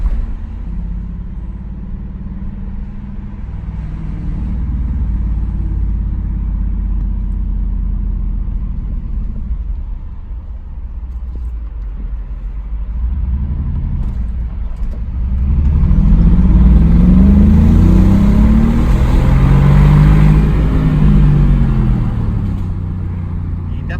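Mercedes G63 AMG engine and exhaust heard from inside while driving, a deep steady rumble that swells into a louder, rising roar of acceleration in the second half.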